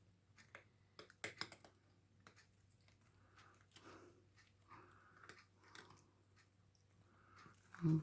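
A cat crunches dry kibble close by, a series of quiet, irregular crisp bites and chewing clicks in a hushed indoor room, with a brief louder knock near the end.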